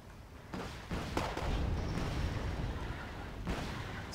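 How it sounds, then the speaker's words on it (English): Heavy artillery barrage in the Wargame: Airland Battle video game, a continuous dense rumble of overlapping booms with sharper blasts standing out, loud and sustained throughout. "you see here a pretty heavy artillery barrage, which should slow the enemy down"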